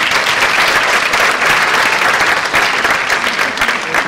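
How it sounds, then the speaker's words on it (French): Loud, dense applause from an audience at a Thales Avionics competition ceremony, honouring the jury president, steady and close throughout with no pauses. "je vous demande de l'applaudir."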